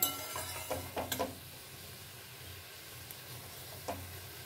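Spiced curry being stirred in a pan over a medium flame, a few clanks of the utensil near the start over a faint steady sizzle.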